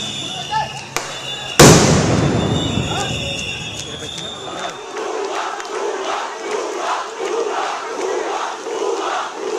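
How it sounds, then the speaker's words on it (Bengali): A sound grenade fired by security forces at a street procession goes off in one sharp, loud blast, followed by a large crowd shouting and chanting. "তখন এভাবেই সাউন্ড গ্রেনেড মারা হয় আইন শৃঙ্খলা রক্ষাকারী বাহিনীর পক্ষ থেকে।"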